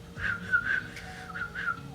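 Someone whistles a short, wavering tune of several breathy notes, close and fairly quiet, with no talking.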